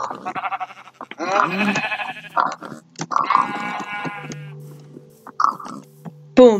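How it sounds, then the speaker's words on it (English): Sheep in the Minecraft video game bleat several times in short, nasal bursts, interspersed with other blocky game sound effects and pauses, close and clear. "Boom, yellow sheep."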